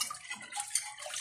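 Running water in a clogged kitchen sink during dishwashing, a steady close splash and hiss of flowing water with small clinks, no voices.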